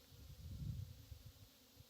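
Low, soft buzzing of bees hums steadily for a couple of seconds, swelling slightly midway, quiet and continuous with no voices.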